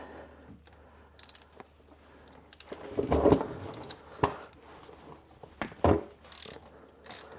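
A ratchet fitted with a 17mm socket and extension loosens the flanged oil drain bolt on a Kymco MXU700 quad, giving several bursts of close clicking with quiet gaps between them.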